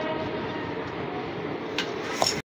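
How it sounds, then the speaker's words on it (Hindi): The Shramjeevi Express rolls into platform 1 at Bareilly Junction with a steady, loud rumble of wheels and carriages, a few brief squeals and clanks rising over the continuous noise before it cuts off. "प्लेटफॉर्म नंबर 1 पे अराइव होते हुई श्रमजीवी एक्सप्रेस"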